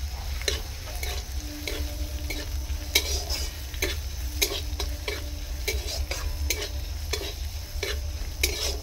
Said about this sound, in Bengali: আদা রসুনটি আমার ভাজা ভাজা হয়ে এসেছে।